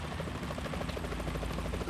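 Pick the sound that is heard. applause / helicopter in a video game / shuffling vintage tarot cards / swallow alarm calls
helicopter in a video game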